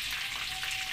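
Sopas, a creamy soup with vegetables, cooks in a pot and gives off a steady bubbling sizzle. A faint continuous hum runs underneath, and no one speaks.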